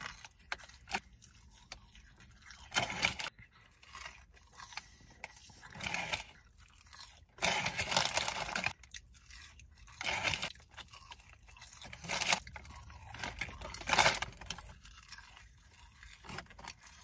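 Someone eats McDonald's fries, with close, wet chewing and crunching in short bursts separated by quiet pauses and no talking.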